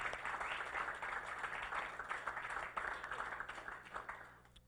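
A round of applause at a SAMMY Awards nominee announcement, continuous crowd clapping heard faintly and at some distance, sustained for several seconds before tapering off at the end.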